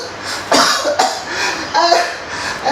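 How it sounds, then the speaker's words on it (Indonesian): A person coughs from corona virus, a few sharp coughs spread over a couple of seconds, close and fairly loud against a quiet background. "sehingga salah satu akibatnya orang itu terbatuk-batuk"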